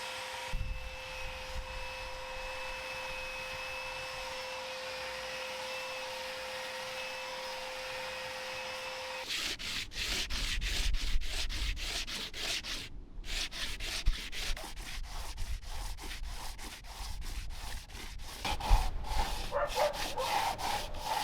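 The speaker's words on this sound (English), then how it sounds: "I needed to sand the epoxy on the forecabin roof, using the belt sander to do this" A belt sander with a worn 180-grit belt works over epoxy on the plywood forecabin roof of an old WWII boat, first a steady whine, then a rougher, rhythmic, scratchy grinding that continues to the end.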